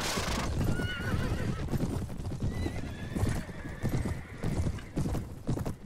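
Cavalry horses clip-clop in a medieval battle game, with quick irregular hoofbeats close by and a horse's whinny early on, under faint background din.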